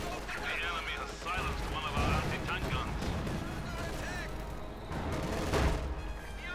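A Panzer IV tank fires in a Company of Heroes 2 battle, its booming shots mixing with a dense wash of gunfire and explosions over a continuous roar, with a voice talking throughout.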